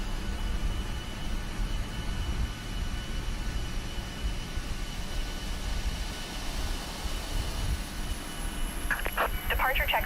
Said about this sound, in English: APU is starting up.